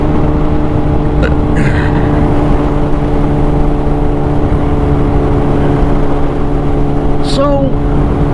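Wind roars steadily and loudly around a rider on a Honda CBR600RR sport bike fitted with a double bubble windscreen, a dense, unbroken rushing noise from start to finish.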